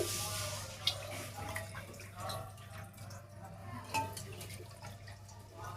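Andhra-style fish pieces are rinsed by hand in water, making faint, close splashes and drips with a couple of sharper clinks over a low background hum.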